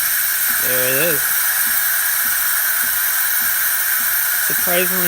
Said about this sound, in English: Surprisingly powerful steam.